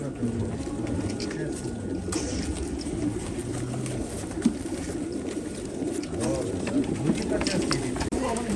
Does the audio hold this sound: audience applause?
no